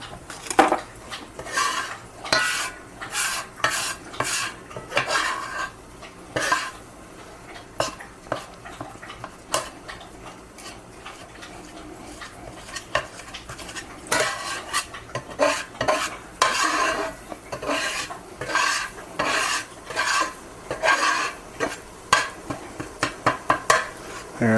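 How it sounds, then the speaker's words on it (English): A utensil stirs a flour and butter roux in a pan for Salisbury rabbit, producing steady repeated scraping and clinking strokes over a faint sizzle, close up and without talking. "You just want to stir it around, cook it until it starts to brown a little bit so it doesn't taste like flour."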